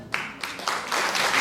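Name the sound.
audience applause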